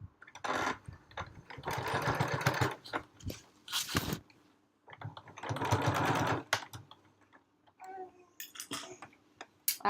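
A sewing machine stitches a library bag lining in several bursts of rapid, close mechanical whirring, separated by short pauses and light handling clicks.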